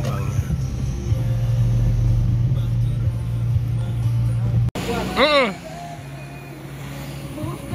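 A bus idling with a low steady engine rumble under chatter, followed by a sharp break and a louder rising mechanical whine with voices nearby.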